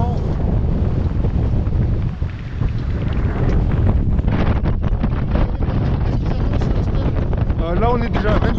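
Strong wind buffets the microphone aboard a sailboat heading out of Palamos port, Spain, in about 25 knots of breeze, a loud continuous roar with rushing water beneath and a few faint voices.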